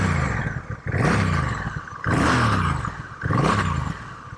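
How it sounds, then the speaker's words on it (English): Three sharp revs from the exhaust of a Honda CMX 1100T Rebel DCT bobber motorcycle, loud and close, each rising quickly then falling away, with brief dips between them. "So I'll do an exhaust note for you now."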